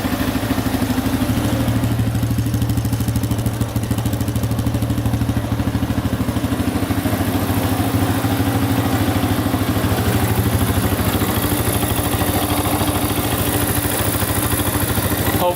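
A Honda CRF 150 dirt bike engine idling while it warms up, a steady close, loud, rapid mechanical putter and clatter that holds without revving throughout.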